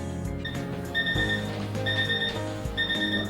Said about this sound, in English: my timer tells me that 10 more minutes are up